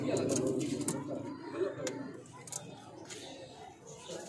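Laal Zard Adwaar Chap pigeons coo softly in repeated low, throaty phrases nearby, with occasional sharper clicks and rustles; someone talks over them.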